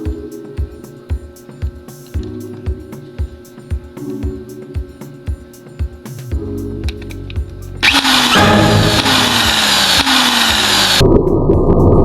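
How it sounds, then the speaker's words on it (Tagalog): A power drill slipping against a thick steel motorcycle handlebar on a Rusi Titan 250, with a rhythmic series of short grinding bursts followed by a long, loud continuous whine and hiss. "dumudulas lang yung barena natin at kahit anong gawin ko ay hindi pa rin talaga bumabaon yung barena natin"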